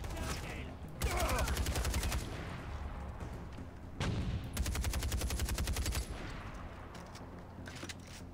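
Heavy artillery shelling a town in Far Cry 4, arriving as dense bursts of rapid loud blasts, one around the first second and a longer volley midway, over a steady rumble with faint talk beneath.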